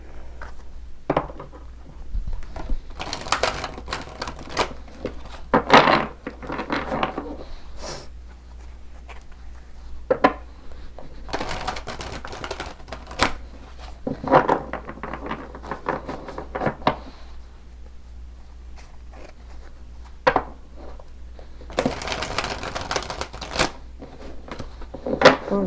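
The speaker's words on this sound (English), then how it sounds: "that felt like a really nice shuffle" Tarot cards being shuffled by hand in a quiet room, giving bursts of soft riffling and flapping in irregular runs separated by short pauses, close and fairly faint, with no talking.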